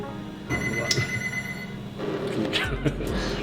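A mobile phone rings with a repeating electronic ringtone, steady and moderately close, with indoor background noise and a voice talking partway through.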